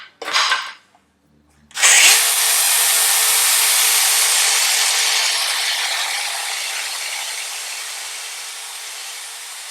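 A power tool trims a rubber floor jack pad. After a short burst and a pause, it starts up as a loud, close, steady high grinding whine that slowly eases off, with no speech.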